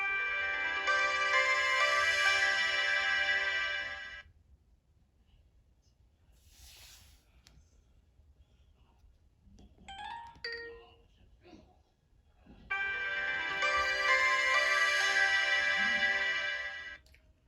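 A Kyocera DuraMax Sprint flip phone plays its startup jingle twice, a bright melodic chime lasting about four seconds each time, separated by a long near-silent gap with a few faint clicks and handling noises.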